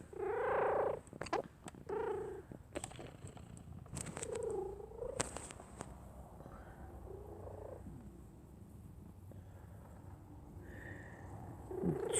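A mother cat purrs steadily and close by beside a quilting session, a soft continuous rumble under a few brief louder meows and faint handling clicks near the start.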